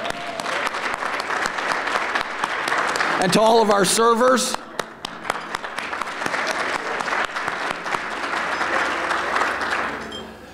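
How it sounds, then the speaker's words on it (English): A luncheon crowd at a village state-of-the-village address gives loud, sustained applause for hotel staff, the clapping running throughout while someone speaks over it and briefly calls out. "How about a round of applause for our Hilton people?"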